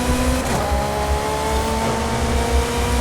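A steady high-pitched racing car engine drone from a video game, with shifting tones, loud and continuous.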